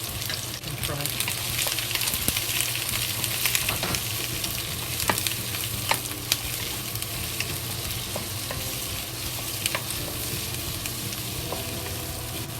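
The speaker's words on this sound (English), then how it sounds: "When the oil is hot, we add the onion to it." Onion frying in hot oil makes a steady, dense sizzle and crackle that holds close and loud throughout, with faint scattered scrapes from stirring now and then.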